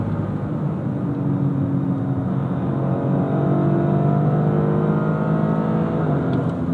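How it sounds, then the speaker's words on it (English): Engine of a 2025 Toyota GR Corolla Premium with automatic gearbox pulls hard under acceleration, a loud steady drone with rising tones that step through upshifts, heard close from inside the car. "It's actually going to upshift for you automatically, even in track mode with your gear shift put in manual."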